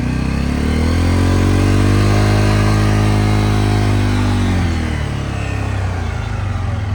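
A Bajaj Pulsar's 250 cc single-cylinder, two-valve motorcycle engine revs loudly and steadily, its pitch rising then falling as the throttle is released, close by and without talk.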